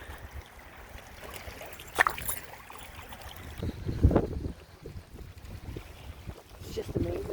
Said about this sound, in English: that wind is so nice.